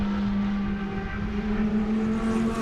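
A race car at Sebring drones past with a steady, loud engine tone holding a sustained pitch throughout, no talk over it.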